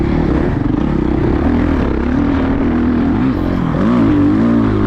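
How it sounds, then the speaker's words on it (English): A dirt bike engine revs hard on a motocross track, a loud continuous wavering drone that climbs and dips in pitch as the throttle is blipped, close and steady throughout. "Panic rev like that'll get your heart going, especially before you click fourth, just screaming down the mountain"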